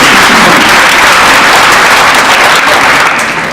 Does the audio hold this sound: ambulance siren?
no